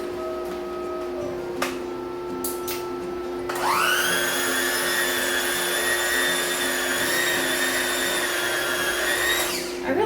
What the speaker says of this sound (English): So now I'm going to use my beater to just kind of blend it up.